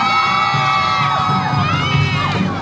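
A crowd cheers and shouts, with children's high voices and whoops, at the opening ceremony of the 2016 Turn Toward Busan patriotic parade; a loud, continuous, bustling wash of voices with no pauses.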